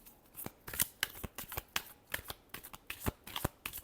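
Tarot cards being shuffled by hand in a rapid series of crisp riffling flicks and soft slaps, close and quiet, with no talking over them.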